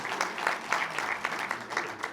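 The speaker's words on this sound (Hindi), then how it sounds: "एक बार अपने लिए थोड़ी तालियां बजा दीजिए" A poetry gathering's audience claps in a brief, even burst of moderately loud applause, with faint murmuring underneath.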